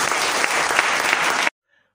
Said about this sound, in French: est-ce qu'on peut applaudir pour la maison russe?